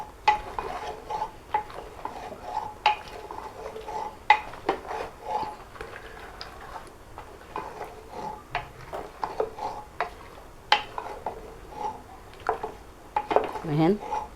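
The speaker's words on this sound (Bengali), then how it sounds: "এখন আমি এটা দিয়ে একটু নেড়ে ছেড়ে ঢাকনাটা দিয়ে দিব।" Dishes and utensils clatter in a home kitchen as a pot of bottle gourd curry with hilsa fish head is stirred and a lid set on, with scattered light clinks and taps at a moderate distance, mixed with faint speech.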